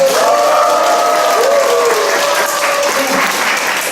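A large forum audience breaks into loud, sustained applause, with dense clapping filling the hall and a faint voice briefly audible through it.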